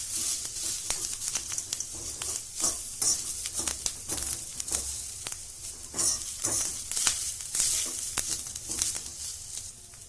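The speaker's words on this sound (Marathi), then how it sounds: "मिरच्या पण घालू तीन चार लसूण आणि आल्याचे तुकडे पण घातलेले आहेत ते पण आपण याच्यात कांद्याबरोबर भाजून घेऊ" Green chilies, garlic and ginger sauté with onions in a pan, giving a steady crackling sizzle broken by repeated spoon-scraping stirs, heard close up with no voices.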